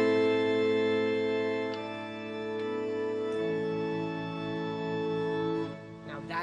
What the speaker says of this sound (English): So I combine few of the sounds to get a proper organ tone.